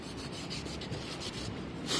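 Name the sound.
sanding a model car mold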